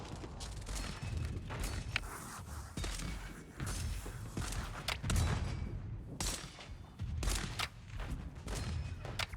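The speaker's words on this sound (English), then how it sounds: "Artillery barrage first." Artillery barrage in the strategy game Battleplan, shattering German lines near Cherbourg: repeated heavy booms and thuds, loud and irregular, rolling one after another with no talk.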